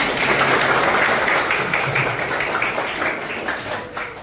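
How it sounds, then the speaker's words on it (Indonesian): Students in an Islamic jurisprudence class applaud together, a steady wash of clapping that holds for several seconds and thins slightly toward the end. "Tepuk tangan untuk kalian semua."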